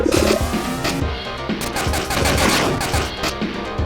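Rapid bursts of gunfire in the Sonic Boll video game, dense overlapping shots with engine-like whooshes and music layered in.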